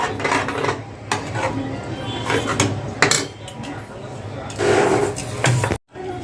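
A spoon scrapes and clatters steadily around a pot as kheer with sugar is stirred, a loud continuous grinding of metal on metal with brief knocks, and a voice speaking over it.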